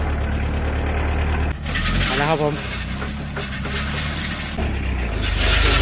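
A tractor's engine runs steadily with a fertilizer spreader mounted on its rear, broadcasting pelleted manure inside a greenhouse. Someone speaks over the continuous engine noise near the middle.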